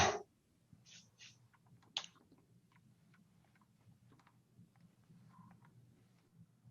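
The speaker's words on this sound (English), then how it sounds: "So Corey, I was just typing into the team" Faint clicks of typing on a computer keyboard in a quiet room, a few sharp taps then scattered soft keystrokes over a low background hum, with no speech.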